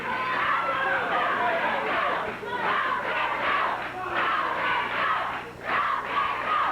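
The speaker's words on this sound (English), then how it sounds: "Crowd chanting for the King to go." A professional wrestling arena crowd chants loudly and steadily during a tag-team match, a dense roar of many voices in rhythmic surges that fills the whole stretch.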